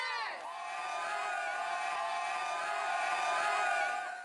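A lively crowd at a Lady Gators volleyball game cheers and whoops loudly and without a break for about four seconds, many voices blending into a bright, sustained roar.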